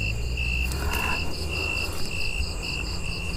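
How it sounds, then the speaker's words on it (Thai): Crickets chirp at night among banana plants in a Thai rice field: steady high pulsing trills, close and clear, over a constant low background hum with no talking. "นี่ครับจิ้งหรีด นี่จิ้งหรีด"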